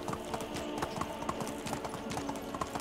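A horse clip-clops through the medieval survival game Medieval Dynasty, its hooves striking in a steady, continuous rhythm at moderate loudness, with no voices over it.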